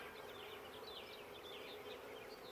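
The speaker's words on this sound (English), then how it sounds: "A lot of bees." Bees on a honey-heavy nuc frame buzz densely and continuously, a close, busy drone with higher whining passes as individual insects fly near.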